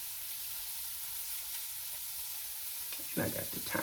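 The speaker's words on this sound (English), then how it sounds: "You just gotta brown them sausages." Sausages brown in a hot pan with a soft, continuous sizzle and hiss, and a few louder clattering stirs come near the end.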